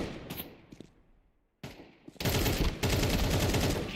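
Gunfire in a video game firefight: a few sharp scattered shots, then a loud sustained burst of rapid automatic fire close up.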